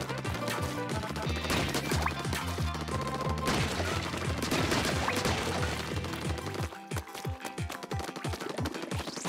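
Rapid bursts of dual guns firing in Splatoon 2 during an Octolings battle, sharp repeated shots layered over game music and effects, with a quicker run of distinct punchy shots near the end.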